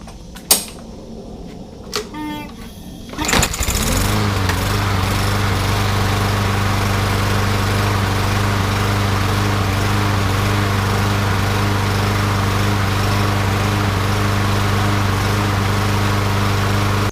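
A few clicks and a pull lead to a small engine with a damaged carburetor catching, then a lawn mower runs loud and steady at a constant idle.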